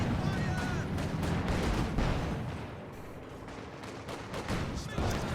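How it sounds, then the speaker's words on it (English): Heavy mortar fire from Soviet forces in a Company of Heroes 2 2v2 match, heard as a dense, continuous rumble of battle with repeated booming impacts and crackling shots throughout. "there's a heavy mortar from Immature"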